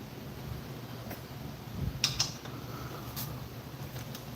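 A head bolt on a Briggs and Stratton 5hp flathead engine being loosened with a wrench gives faint creaks and a couple of brief metallic clicks against quiet background noise.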